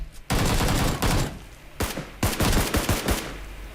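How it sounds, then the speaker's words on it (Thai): Gunfire in the battle royale video game PUBG Lite, loud, close bursts of rapid automatic shots in several clusters separated by short pauses. "มีคนยิง มีคนยิง"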